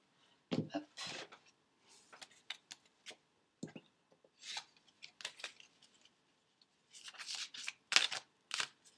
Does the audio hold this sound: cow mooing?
no